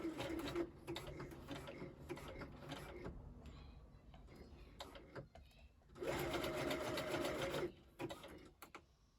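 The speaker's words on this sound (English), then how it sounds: "Just going to do a zigzag stitch to attach the two ends of the elastic together." A sewing machine zigzag stitches the two ends of elastic together for a puff sleeve, running in bursts of rapid mechanical rattling separated by brief pauses, with talking heard over it.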